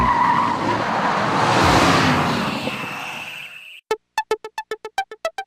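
A Mercedes-Benz SLS AMG in a Gran Turismo game on PlayStation roars and its tires screech in a rising rush, then cuts abruptly to a rapid series of sharp, evenly spaced electronic blips.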